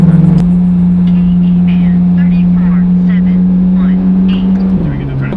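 Car engine held at high revs with both shift paddles pulled, a steady loud droning note sustained for several seconds before it drops away, while someone talks over it.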